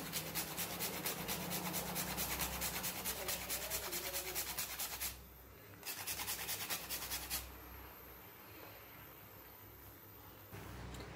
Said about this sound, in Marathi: यामध्येच आता जायफळ हे किसून घ्यायचं आहे